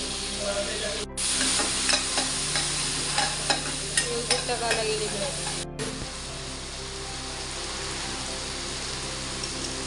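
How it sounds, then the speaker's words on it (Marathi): Ginger, garlic and chili paste stirred and frying in a hot pan during a monsoon wild-vegetable dish, with steady sizzling and scraping spoon strokes throughout, loud and close. "आता आपण घालूया आलं लसून मिरची कशी पेस्ट दोन चमचे मी घेतलेली आहे"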